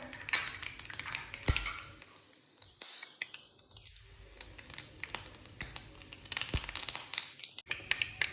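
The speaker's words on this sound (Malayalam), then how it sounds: "കടുക് പൊട്ടി കഴിഞ്ഞു" Mustard seeds popping and spluttering in hot sesame oil in a pan, quick irregular crackles and small bursts scattered over a faint steady sizzle, close and fairly quiet, with no talking.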